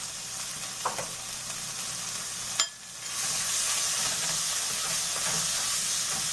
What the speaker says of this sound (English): So I'm just going to saute this one 5 minutes, and that's going to go in the dal